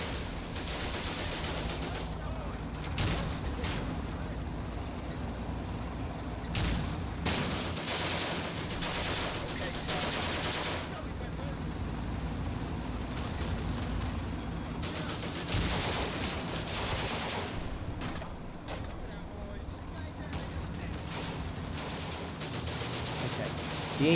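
Gunfire from a Combat Mission: Afrika Korps battle at Gallabat, including anti-tank rifles, comes as scattered sharp shots and rattling volleys that keep going, with a voice talking over the din.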